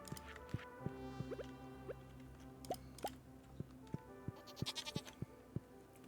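A goat bleats several times in the Stardew Valley farming game, faint chirpy cries over soft background music with a few light dripping plinks scattered through.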